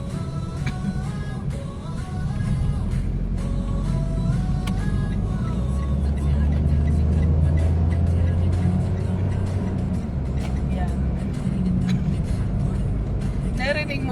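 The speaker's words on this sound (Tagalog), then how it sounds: "Narinig mo ba yung pag ng rev ng sasakyan?" A car engine revs during a road trip drive, a steady low rumble rising in loudness partway through, heard close from inside the vehicle with people talking over it.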